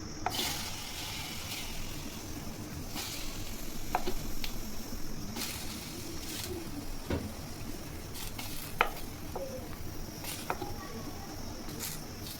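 Green chilies sizzling in hot oil in a pan for mint chutney, a steady close crackling hiss broken by occasional sharp pops and light scrapes.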